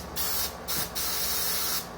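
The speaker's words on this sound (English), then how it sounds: "Spray it in there, really brush it down" Several bursts of aerosol cleaning spray hissing close up into a SIG pistol part, short and long blasts separated by brief pauses, with no voices.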